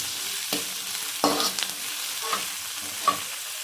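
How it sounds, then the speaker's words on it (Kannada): Onions, curry leaves, green chili and tomato fry together in a pan, a soft steady sizzle marked by several scraping stirs and light knocks, near and moderately loud, without speech. "ಇದು ಸ್ವಲ್ಪ ಹಸಿ ಸ್ಮೆಲ್ ಹೋಗೋವರೆಗೂ ಈ ಥರ ಫ್ರೈ ಮಾಡಿಕೊಂಡ್ರೆ ಸಾಕು"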